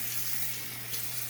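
A kitchen sink tap running water over rainbow trout being rinsed, a steady close hiss of flowing water with a faint low hum underneath and no talk.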